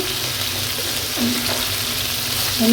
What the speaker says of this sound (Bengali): এখন আমি উল্টিয়ে দিব, দিয়ে ভালো করে ভাজতে হবে একটু